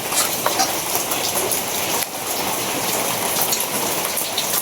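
Heavy rain pours steadily during a night storm, a dense, continuous hiss of drops drumming on surfaces close by, with no voices over it.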